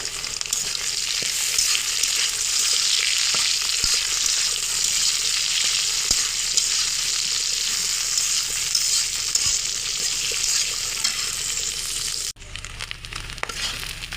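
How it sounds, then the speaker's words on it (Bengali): Large prawns fry with onion in a pan, a loud, steady hiss of sizzling oil lasting over twelve seconds with occasional stirring clicks, then dropping abruptly to a quieter sizzle near the end. "বড় চিংড়ি মাছটা এই পেঁয়াজের সাথে একটু ভেজে নিব"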